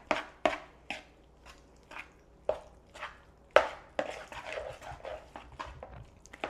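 Spinach lasagna filling with eggs is mixed in a bowl, giving a string of separate scraping and knocking strokes, roughly one or two each second, close by and moderately quiet.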